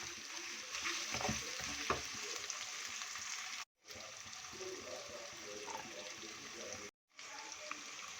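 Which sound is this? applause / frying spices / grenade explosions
frying spices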